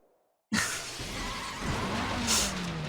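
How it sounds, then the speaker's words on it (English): Glass crashes with a heavy impact in a motorcycle scene from the Dramatical Murder video game: sudden loud burst after brief silence, then a sustained roaring rush with a bright shatter accent near the end. "I hear the crash of glass and feel the impact rock my body."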